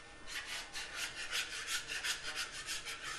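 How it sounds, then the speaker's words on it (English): Metal bench scraper scraping pie crust dough for a pot pie across a work surface: a close, soft, rhythmic rasping in repeated strokes, quiet and steady with no talking. "Now I'm going to use my little bench scraper here"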